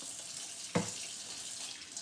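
A kitchen tap runs steadily while someone washes their hands, a soft continuous hiss of water with a single brief splash or knock partway through.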